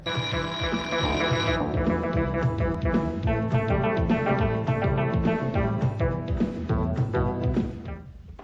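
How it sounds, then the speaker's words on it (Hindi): A bell alarm clock rings loudly and close, a rapid continuous metallic clatter that holds steady for several seconds before cutting off. "सर आपको तो पता है मैं रोज सुबह 5 बजे उठ जाता हूँ अलार्म लगाकर"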